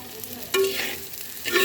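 Soybean curry sizzles in a pan as a spoon stirs it, a brief close scrape and a swell of frying hiss, with no voices.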